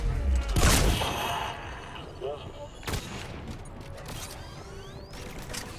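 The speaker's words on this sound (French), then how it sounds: "Ah non, j'ai entendu la tourelle." Turret firing in the Mass Effect 3 video game: a loud close burst of sharp gunfire at the start, then a second crack and scattered mechanical rattles amid combat ambience.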